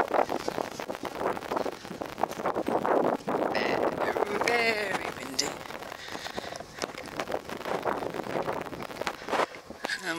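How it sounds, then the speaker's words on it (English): Strong wind at a Cornish campsite buffets the microphone beside a tent and trailer, a steady roaring rumble that runs the whole time with gusting swells, while people talk over it. "We haven't got it open this side because the wind's blowing straight through."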